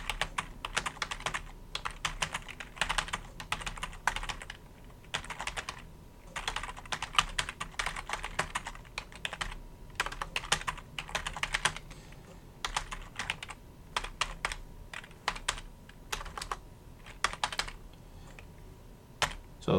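Fingers type steadily on a computer keyboard, quick clusters of crisp key clicks broken by brief pauses, close and clear with no talking.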